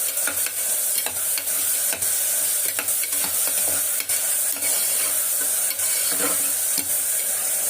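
Onions and tomatoes sautéing in a pan for a spicy Tamil-style mutton liver and chicken fry, with steady loud sizzling and repeated scraping stir strokes throughout, no talking.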